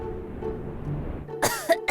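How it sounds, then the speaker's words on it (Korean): A single short cough or throat-clearing bursts out near the end of a quiet stretch, close and fairly loud, with a second brief catch following right after. "누가 기침 소리를 내었느냐?"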